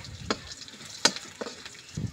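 Bay leaves, dal masala and whole cumin fry in hot oil with a steady low sizzle, broken by a few sharp crackles and spatters as the spices hit the pan.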